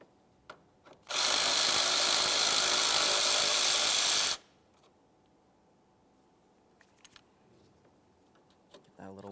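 A power tool spins out a 10mm-headed bolt on a 2011-2018 Volkswagen Jetta engine, one loud, steady whir lasting about three seconds, then quiet clicks and small handling noises afterward.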